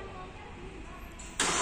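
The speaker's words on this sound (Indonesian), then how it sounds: "dia punya fitur remote engine start nih" A Hyundai Santa Fe Prime CRDi facelift diesel engine starts by remote start in Indonesia: quiet outdoor background, then a sudden loud catch of the engine near the end that settles into a steady run.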